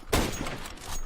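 A single sharp shot from the new Scout sniper rifle in CS:GO, a loud close crack that rings out briefly and fades into a low rumbling tail.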